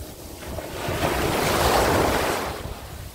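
Gentle sea waves wash ashore on a calm morning at Eforie Nord beach, a soft, steady surge that swells and fades under light wind buffeting the microphone.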